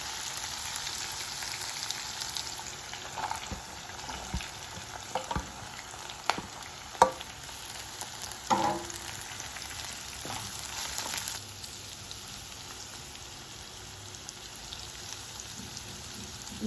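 Carrot and capsicum fry in hot oil for wheat rava upma, a steady close sizzle with occasional spoon scrapes and stirring knocks in the pan.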